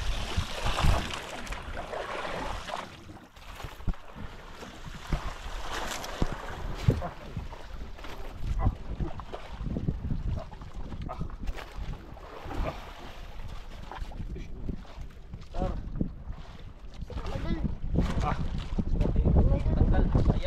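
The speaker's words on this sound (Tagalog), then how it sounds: "Naglakas na yung hangin." Strong wind buffets a small fishing boat out at sea, roaring steadily and close throughout with rushing water beneath, while people talk over it.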